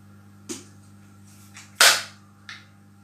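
Several sharp shots striking a tin can target, four distinct cracks with uneven spacing, the third loudest with a short metallic ring, set over a quiet low hum.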